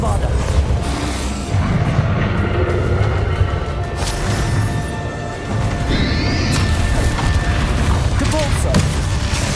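Bombarda explosion spells in Hogwarts Legacy: heavy booming blasts and crashing impacts rolling continuously through a loud battle, with a voice speaking over the din.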